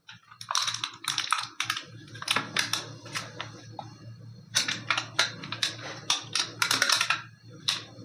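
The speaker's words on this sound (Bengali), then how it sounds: "এইবার এই ফয়েল পেপারটাকে খুব ভালোভাবে এই বাটিটাকে সিল করে দিতে হবে।" Aluminium foil is pressed and crimped tightly over the rim of a steel bowl. Close, crackly crinkling comes in repeated bursts throughout, loud and dry, with no talk over it.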